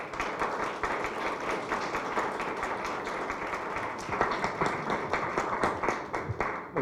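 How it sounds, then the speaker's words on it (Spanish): Audience at a book presentation on human rights, democracy and development applauding to welcome a speaker, a sustained room-filling patter of many hands, moderately loud and steady with no talk over it. "Le damos un fuerte aplauso y lo recibimos, por supuesto, con mucho gusto."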